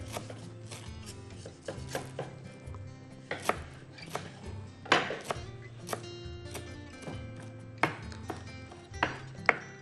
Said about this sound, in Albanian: Ta grimcoj majdanozin në copëza të vockla.